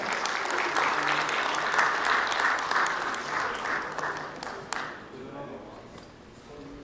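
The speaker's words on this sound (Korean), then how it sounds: "큰 박수 부탁드립니다." Audience clapping at a school sports awards ceremony, dense applause swelling for several seconds then thinning out and fading near the end.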